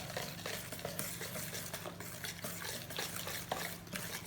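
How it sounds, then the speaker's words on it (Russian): Flour being stirred gradually into a loose cake batter in a bowl, a soft continuous wet swishing and scraping close at hand, fairly quiet and without speech. "Вот постепенно вот так вот вводим муку."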